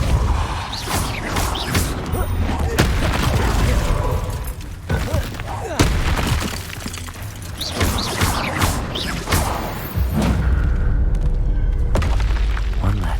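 Heavy spell impacts in the video game Hogwarts Legacy, including the Depulso force-push: repeated loud booming thuds and crashes with debris-like clatter over a steady rumbling game bed, arriving in several bursts.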